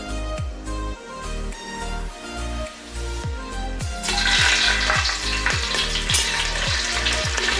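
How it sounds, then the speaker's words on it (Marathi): Green chilies hit hot oil in a brass pot for mutton rassa; a loud, broad sizzle bursts in halfway through and keeps going over rhythmic background music. "पहिली मिरची भाजून घ्यायची आहे तेलामध्ये"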